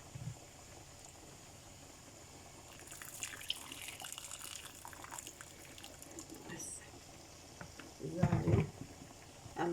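Water goes into a pot of beef curry with potatoes, heard as quiet trickling and bubbling that grows into a louder splashing burst near the end.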